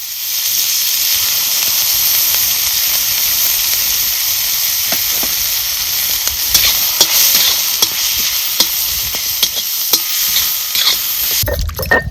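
Fish frying in oil in a pan, a loud continuous sizzle and hiss with irregular spatters and stirring clicks building toward the end, alone without talk.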